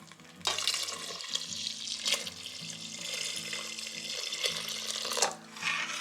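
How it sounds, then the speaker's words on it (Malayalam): Cow's milk is poured into a jaggery nurukkari pradhaman payasam, making a continuous close splashing, gurgling pour that pauses briefly near the end, with no speech. "ഇപ്പം പാലൊഴിച്ച് കൊടുക്കാം."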